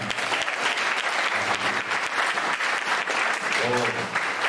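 A church congregation claps steadily and loudly in acclaim of God, with dense continuous applause and a voice calling out over it at moments.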